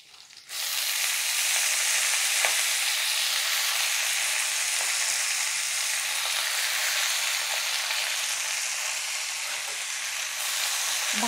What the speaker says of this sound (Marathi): भाजी छान फोडणीमध्ये मिक्स करून घ्यायची आहे.